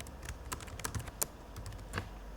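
Rapid typing on a computer keyboard while indenting Python code, with a steady run of crisp, close key clicks and a few louder strikes, no talking.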